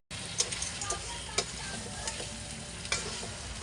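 Crab and shrimp are stirred in a pan, sizzling steadily as frying, with scattered scraping clicks of the utensil against the pan, moderately quiet and without talk.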